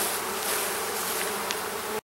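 Honey bees buzz densely around hive frames during a summer honey harvest, a steady close swarm hum with no talk, cutting off abruptly at the end.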